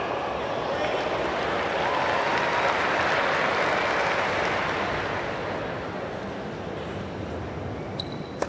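A tennis crowd at the United Cup final, a team event, applauds in a broad, sustained wash that swells and slowly fades, with commentary voices faintly present.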